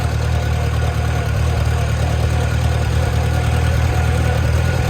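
A 1954 Farmall Super C tractor engine runs steadily close by on a mild, wet day in northern Mississippi, a continuous loud low chugging drone with no talk.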